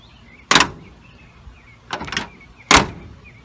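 Three sharp door closures on a 1972 Chevy C10 pickup, each a solid metallic thunk with a little latch rattle, spaced about a second apart and heard up close with no talking.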